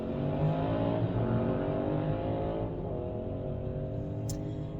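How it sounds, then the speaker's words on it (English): A motorcycle roars past at close range, a steady rumbling drone that rises and then slowly recedes, with no voices. "that motorcycle was so rudely interrupting me"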